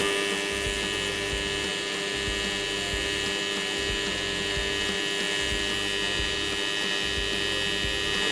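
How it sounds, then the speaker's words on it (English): A TIG welding arc, struck with a wireless foot pedal, burns with a steady, continuous buzzing hiss and an even low hum throughout, with no speech. "I stepped just on it and it struck the arc right away. Nice positive arc start."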